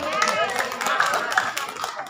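An audience at a comedic religious lecture clapping hands, a brisk scatter of claps with a voice speaking over it.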